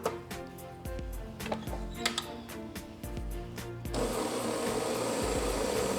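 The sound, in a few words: mixer beating room-temperature butter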